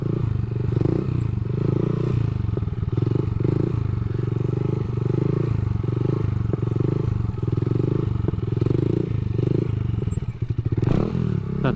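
A Honda Grom motorcycle rides in repeated tight circles doing sit-down wheelies, its small engine droning steadily at close range with rhythmic rises in revs and occasional clatter and scrapes throughout.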